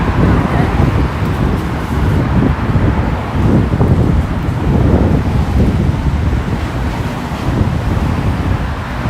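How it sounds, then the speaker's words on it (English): Steady, heavy wind buffeting the microphone with a low roar, traffic rumbling faintly underneath and occasional muffled voices, on a rainy night street in Sangenjaya, Tokyo. "little bit windy. Not too bad."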